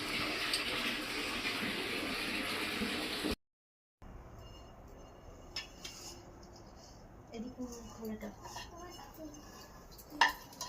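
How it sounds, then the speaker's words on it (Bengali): Tap water runs loud and steady over utensils in a home kitchen sink, then cuts off. Softer clinks and scrapes of pots and plates being scrubbed follow, with a few sharper knocks near the end. "বাসন কটা বাসন পড়েছে, এই কটা মেজে নেবো"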